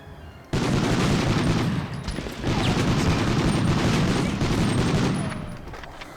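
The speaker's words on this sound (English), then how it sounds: "Oh, grenade." Grenade blast and sustained gunfire in the Medal of Honor video game: a loud, dense barrage of shots and booms starts abruptly, dips briefly, then continues before easing off near the end.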